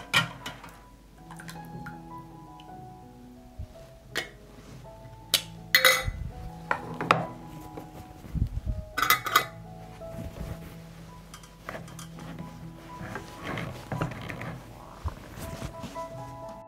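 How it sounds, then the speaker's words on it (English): Glass jars being closed with sterilized lids in a kitchen, a series of sharp clinks, taps and metallic clicks scattered irregularly, some bunched together, fairly close with quiet gaps between. "Immediately close the jar with sterilized lids."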